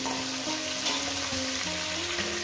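A katla fish head fries in hot oil with a continuous, even sizzle under soft background music.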